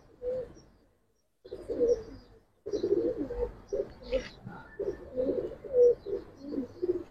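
Pigeons cooing close by in repeated low throaty bursts separated by short silent gaps, no talking.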